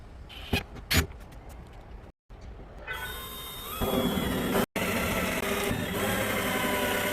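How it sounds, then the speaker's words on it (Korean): A small drill bores a pilot hole into a 70-litre Fiamma plastic water tank for a camper-car setup, a steady high whine that starts partway through and runs on loudly after a few bumps and a short gap. "일단 작은 드릴로 먼저 구멍을 낸 다음에 한번 뚫어 보겠습니다"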